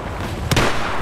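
A flare fired in an Xbox One multiplayer shooter gives a single sharp pop with a hissing burst, heard once near the middle over steady game noise.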